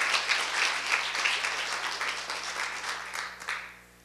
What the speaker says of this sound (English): Round of applause. Linda Swindling.